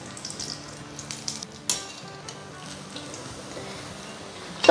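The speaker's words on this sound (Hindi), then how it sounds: "तो अब पकौड़ियाँ अच्छे से फ्राई हो गई है" Pakoras fry in oil over a low flame, giving a soft, steady bubbling sizzle with occasional small pops and a brief sharper spatter near the end.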